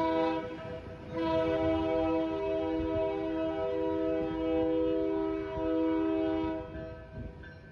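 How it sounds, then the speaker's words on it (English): An MBTA cable train working along a railroad right-of-way to lay fiber optic cable sounds a long, loud sustained horn chord that holds steady for several seconds before fading, over a low rumble of the locomotive. "A cable train is a special train used to lay fiber optic cables on railroad rights-of-way"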